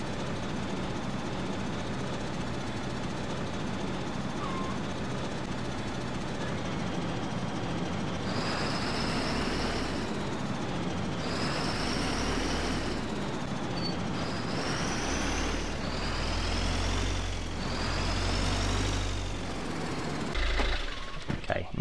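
A tractor in Agricultural Simulator 2013 reverses with a trailer, its engine a steady loud drone with several rising revving bursts near the end, close and continuous, with someone talking lightly over it.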